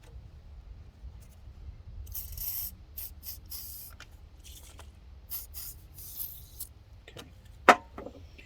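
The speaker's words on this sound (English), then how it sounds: "I do want to spray this cable down a little bit" Short hissing bursts of aerosol spray onto a Honda CT70 motorcycle cable come in a few spaced clusters over quiet background, with a sharp metallic clink near the end.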